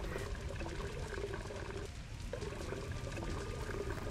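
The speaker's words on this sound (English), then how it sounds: "go ahead and fill it up with water." Water gun being filled with water in a video game, a steady pouring and trickling stream that runs continuously, with a brief dip in the flow midway and no talking over it.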